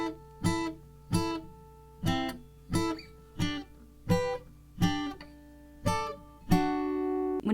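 Fingerpicked acoustic guitar playing a song, clear plucked notes arriving in a steady rhythm of about ten picking patterns, ending on a sustained ringing chord, close and alone with no talking.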